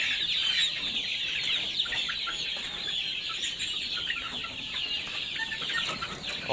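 Chickens on a poultry farm, active and healthy birds clucking and chirping continuously as a flock, close by and busy with no talk over them.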